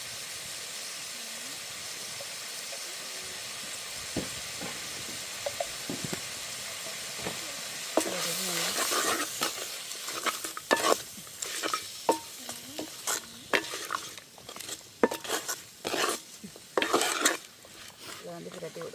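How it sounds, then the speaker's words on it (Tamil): Prawns and jackfruit seeds with salt and turmeric powder are stirred in a pan over a soft steam hiss; quiet at first, then a run of sharp, irregular spoon scrapes grows louder and closer. "இதுக்கு வந்து இப்போ தேவையான அளவு உப்பு போட்டு மஞ்சள் தூள் கொஞ்சம் போட்டு அப்படியே கிராட்டி அடுப்பில் விடுவோம் கொஞ்சம் நேரம்."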